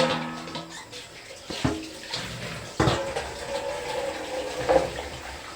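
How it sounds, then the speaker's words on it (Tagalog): Vegetables for a Filipino vegetable stew of string beans, squash and eggplant are rinsed by hand in water, with steady splashing, sloshing and a few sharper knocks against the basin, close by with no talking. "Hugasan na natin."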